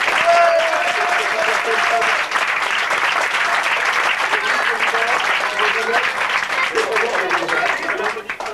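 Loud, continuous applause from a crowd at an association gathering honoring Isabelle, with some voices and cheering mixed into the clapping throughout.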